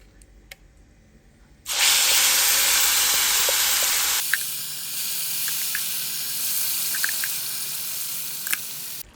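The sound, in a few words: ground curry leaf paste sizzling in sesame oil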